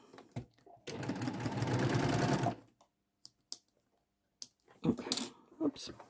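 A sewing machine runs along a fabric edge in a close, steady whirring burst of about two seconds, followed by quiet handling clicks and a woman's speech.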